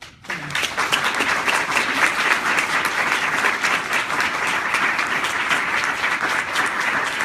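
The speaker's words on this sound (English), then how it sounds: "I'd like to have you join me in applauding the work" An audience at a presentation event breaks into sustained applause, a thick, even wash of many hands clapping that swells in quickly and holds steady at full strength without talk.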